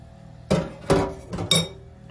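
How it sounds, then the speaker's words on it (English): Eggs and yogurt stirred together in a bowl for Greek-style cheese cannelloni, giving a few sharp clinks of a utensil against the bowl at steady intervals, close and fairly loud with quiet gaps between. "Give it a stir."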